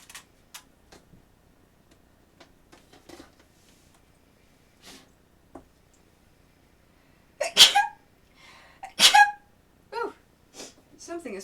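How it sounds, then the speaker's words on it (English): A person sneezes twice in quick succession, loud and close, at a sewing and quilting station, after a stretch of faint scattered ticks and small clicks. "Something is making me sneeze and bothering my allergies."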